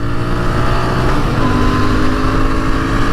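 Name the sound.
Royal Enfield Interceptor 650 motorcycle engine accelerating through gears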